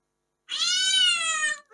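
A single drawn-out electronic cat meow alarm tone from a find-my-phone app, bright and clear, rising then sliding down, played alone after a short silence.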